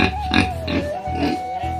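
Pigs in a farm pen grunting loudly and close, a run of repeated rhythmic oinks and snorts with a thin whine running through them.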